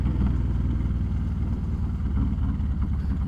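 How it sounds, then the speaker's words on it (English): A motorcycle's exhaust drones steadily while it is ridden: a loud, low, continuous rumble with a pulsing engine note and wind noise, and no talk. "Try and keep my visor closed so you guys hear something other than the exhaust on this motorcycle."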